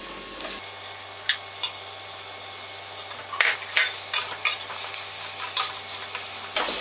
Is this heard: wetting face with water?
no